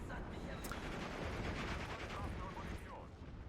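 Artillery and gunfire rumble in the Steel Division 2 war game, a faint, continuous distant barrage of booms and crackling shots, with talking over it.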